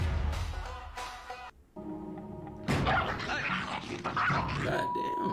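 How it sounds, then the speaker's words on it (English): An excited dog barks, yips and whimpers close by, with loud layered yelps and whines filling most of the stretch, broken by a short quieter pause. "Hey, that dog is going crazy."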